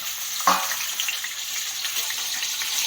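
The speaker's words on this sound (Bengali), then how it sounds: "আলুগুলো হালকা আছে, অল্প অল্প করে মানে আরামসে আরামসে ভাজো" Sliced potatoes frying in hot oil in a home kitchen, a steady close sizzle and crackle with one brief clink of a utensil near the start, no voices.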